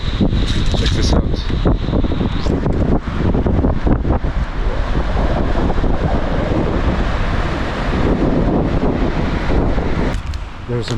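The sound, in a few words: Magod Waterfall in the Western Ghats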